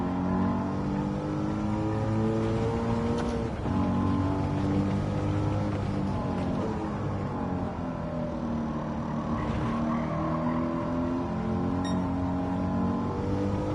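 A car engine in a racing video game, a Corsa with the engine loaded up, drones steadily with stacked harmonic tones that rise and fall as it revs, continuous and fairly loud with no talk over it.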